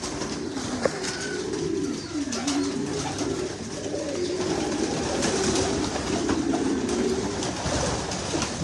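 French meat pigeons cooing in a loft, a steady low murmur of overlapping coos that runs throughout at moderate loudness, with a faint background rumble.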